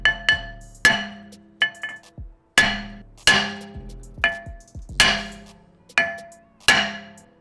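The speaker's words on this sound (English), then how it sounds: "I had to step back and really hammer at it" Heavy hammer blows striking a seized brake rotor on an Audi R8 hub, about a dozen loud metallic clanks with ringing decay in an uneven rhythm, close and alone.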